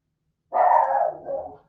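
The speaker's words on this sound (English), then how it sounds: "My dog has decided to growl today" A pet dog gives one close, loud growling bark, a single rough burst with a short trailing growl, alone in a quiet room.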